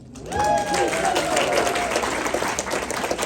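A stand-up comedy crowd bursts into applause, a loud wave of many hands clapping that swells quickly and holds, with a few whoops and voices mixed in.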